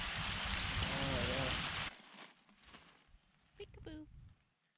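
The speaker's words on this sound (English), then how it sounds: "Ah, hello rain." Rain falls on a campsite as a dense, loud hiss at first, then cuts to a quieter patter with soft knocks and a brief voice in the background.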